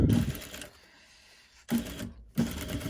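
A sewing machine runs back and forth over the elastic on a fabric face mask, in three short bursts of rapid close stitching separated by brief pauses.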